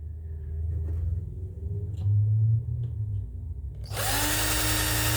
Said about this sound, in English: I'm going to drill a hole through the board and pass them through the board just there